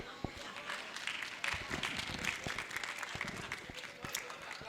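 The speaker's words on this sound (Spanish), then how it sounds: "Entonces también otro aplauso para el compañero Trump, porque los desfondó." A crowd claps in a burst of applause with many overlapping sharp claps, fairly faint and distant, while a voice speaks over it.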